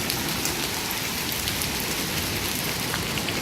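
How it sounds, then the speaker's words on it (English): Heavy rain pours down during a Texas storm, a dense, steady hiss of drops pattering on surfaces, loud and unbroken with no voices. "It's starting to rain really, really hard now."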